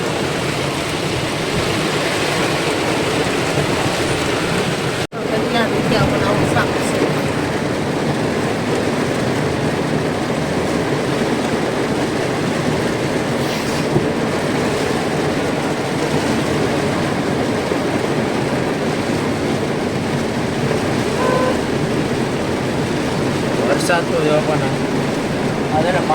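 Heavy floodwater rushing through Junagadh after a downpour, a loud, continuous roar that fills the scene up close, with rain hiss mixed in.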